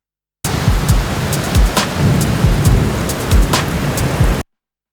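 Recorded rain and thunder layered with a rhythmic beat: steady broadband rain hiss runs throughout while repeated low thumps and sharp transients pulse underneath in a loose syncopated pattern, fairly loud and with no voices.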